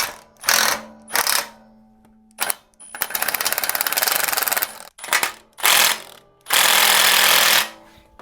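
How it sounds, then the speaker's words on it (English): An impact wrench on a 3/8 swivel adapter hammers at 19 mm diff cover bolts on a Gator TE transaxle. It fires in loud, close bursts, some short and a few lasting about two seconds, with silent gaps between them. "let's see if this 3/8 swivel adapter on a bigger impact will work"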